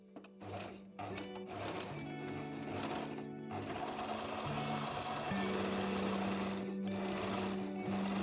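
Sewing machine stitching a ruffle onto a skirt during a dress upcycling project, a close, steady mechanical whirr running in bursts with brief stops, the pace picking up and holding continuously toward the end.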